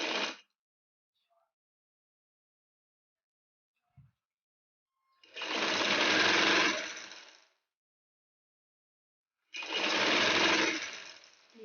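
Sewing machine stitching along a folded strip of fabric for a poncha hem, in two steady whirring runs of a few seconds each separated by silence, close and loud.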